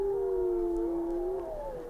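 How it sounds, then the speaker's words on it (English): A wolf pack howls from the far side of the Yukon River, long wavering tones that overlap and slide in pitch, distant but clear against the quiet outdoor background. "Somewhere on the other side of the Yukon River over there is a wolf pack howling."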